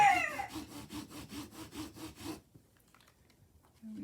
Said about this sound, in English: I think this would be a good time to give this a good burnishing